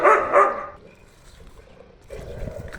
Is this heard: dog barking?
yes